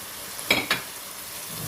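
Potatoes and peas frying in a pot for vegetable pulao give a faint, low sizzle, broken by two quick scraping stirs close together.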